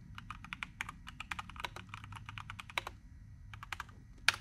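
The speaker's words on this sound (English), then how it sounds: "Type download Windows 10 or 11 in Google" Brisk typing on a computer keyboard, a steady flurry of close, crisp key clicks with a few short pauses and one sharper keystroke at the end, no talk.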